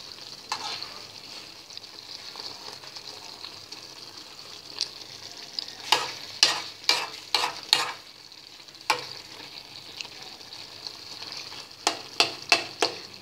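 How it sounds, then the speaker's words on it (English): Carrots, green bell pepper, onions and tomatoes stir-frying in a pan under a soft, steady sizzle, broken by clusters of sharp spatula scrapes and clacks against the pan, close up and without speech. "Mixed it occasionally for 5 minutes, then added the soft ingredients, which is onions and tomatoes."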